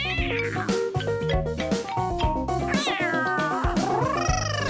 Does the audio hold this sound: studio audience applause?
no